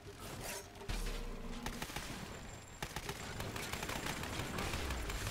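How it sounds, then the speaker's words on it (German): Gunfire in the video game Lara Croft and the Temple of Osiris, a sharp shot followed by further rapid bursts over continuous game ambience, with no talk. "Was war das denn gerade für ein High-End-Schuss?"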